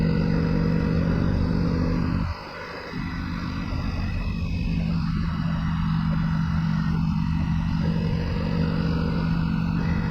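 A Jawa motorcycle rides at speed along a narrow country road, its mid-pitched engine droning steadily and close with wind rush, dipping briefly in a short lull before settling back into a constant run.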